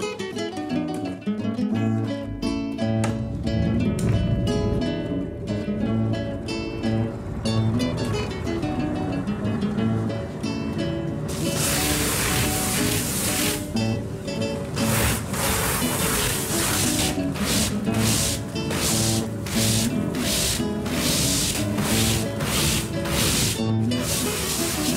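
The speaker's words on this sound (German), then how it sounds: "Jetzt, nachdem das Leder weich ist, müssen wir schleifen." Continuous abrasive rubbing as deer leather is sanded up close with a sanding glove, starting as a smoother scrape and turning into rapid, rhythmic back-and-forth strokes.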